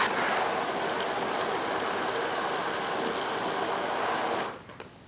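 Water sprays through a garden hose fitted with a fertilizer siphon injector, making a steady, close, broadband hiss that runs unbroken for several seconds and then stops abruptly near the end.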